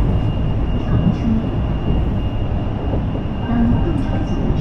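An EMU train on the Wenzhou S1 suburban rail line moves along a station platform, producing a loud, continuous rumble with a steady whine throughout.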